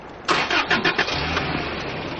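A car engine cranks with several quick rhythmic turns of the starter, catches, and settles into a steady idle, close and clear with no talk.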